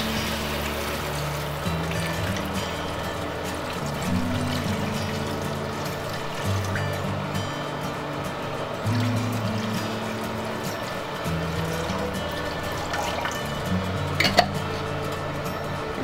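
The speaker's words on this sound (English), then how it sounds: "And add in some stock." Stock poured into a pot for white wine braised groundhog, a continuous watery pour and trickle running for several seconds, with faint clinks of cookware and a louder knock near the end.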